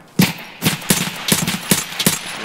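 An SIT/Saiga 9 fires in Escape from Tarkov: six sharp, loud gunshots spaced roughly half a second apart in a steady semi-automatic rhythm, each with a short crack and brief tail.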